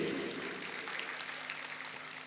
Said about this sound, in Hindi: जोरदार ताली बजा लो अपने लिए।